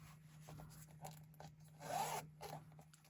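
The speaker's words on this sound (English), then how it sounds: "You can put items in here in the zipper pocket." A zipper on the pocket of a planner cover, drawn in one quick pull, close and soft, with faint rustling around it and a steady low electrical hum throughout.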